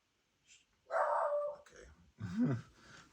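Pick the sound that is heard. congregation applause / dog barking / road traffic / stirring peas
dog barking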